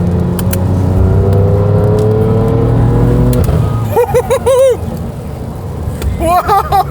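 A BMW M3 engine revs up and drops through crisp downshifts, loud and close from inside the car, then voices chatter over the quieter idle.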